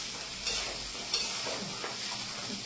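Frying in an oil pan: a continuous close sizzle with a couple of sharp clicks and scrapes as a utensil stirs through the food.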